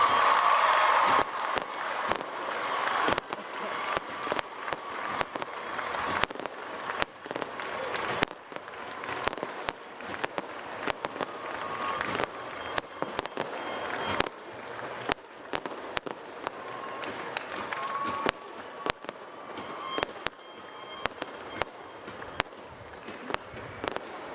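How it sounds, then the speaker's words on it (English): Fireworks burst in rapid, sharp cracks and pops over a continuous roar of cheering and applause from a large crowd at a university commencement ceremony, loud and sustained throughout. "Oh, I love fireworks."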